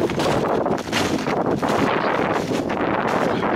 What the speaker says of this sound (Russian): Ветер тут.